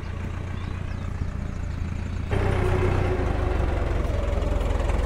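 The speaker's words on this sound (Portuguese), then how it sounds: "O trator acabou a bateria, agora vem vindo outro aí pra dar uma arrastada nele." Tractor on a dairy farm with a dead battery, idling as a second tractor arrives to tow it; a steady low diesel rumble that grows slightly louder and heavier midway, with no voices.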